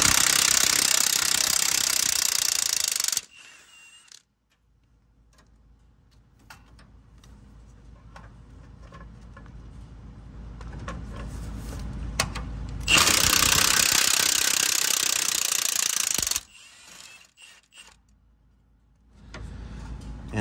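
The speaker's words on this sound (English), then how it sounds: "long extension, and 1/2-inch gun. To get these three top bolts out of the mount." A 1/2-inch impact gun on a long extension and swivel socket rattles out the top engine mount bolts of a 2007 Silverado 5.3 L 4x4, two loud sustained hammering bursts with quieter mechanical ticking between them.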